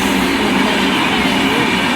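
A train at Thalassery railway station in Kannur, giving a steady, loud rumble of rolling rail wagons close by with no voices.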